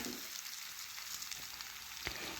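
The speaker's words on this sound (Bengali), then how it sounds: "তো পেঁয়াজ ভাজা হয়ে গেছে, এখন ভেজে রাখা সবজি পেঁয়াজের ওপরে ঢেলে দিলাম।" Fried vegetables sizzle in a pan over browned onions for a potol posto dish, a soft, steady frying hiss with a faint stirring scrape near the end.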